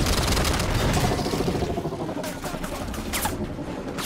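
Sustained weapons fire pours at an enemy core in a Halo 5 Warzone battle, dense overlapping gunfire and bursts running continuously and loud throughout, with a few sharper bright blasts near the end.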